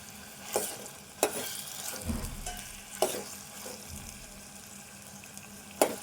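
Vegetable pieces frying in a pan for moong dal khichdi, a steady sizzle with sharp scraping stir strokes every second or so, close and fairly loud, no voices.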